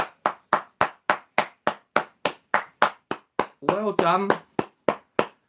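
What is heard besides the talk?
round of applause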